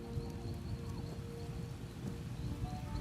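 Rainstorm in the video game The Elder Scrolls Online: a continuous, fairly faint wash of falling rain with a low rumbling undertone suggesting distant thunder, steady and unbroken.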